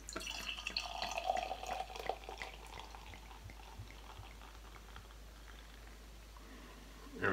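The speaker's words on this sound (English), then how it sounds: "Let's go ahead and get the pour." Homebrewed beer pours into a glass in a soft, trickling, splashing stream over a low hum, fading to a quieter fizz toward the end.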